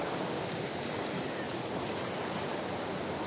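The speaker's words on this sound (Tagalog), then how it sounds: "Alon lang yung marinig mo dito" Water waves on the Madlum River near Zamora Falls make a steady, unbroken rush and wash that fills the scene evenly, with no voices.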